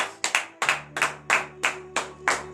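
A worship congregation claps in a strong, rhythmic unison pattern, with sharp paired and single claps in a quick repeating beat, close and loud over a sustained organ or keyboard chord.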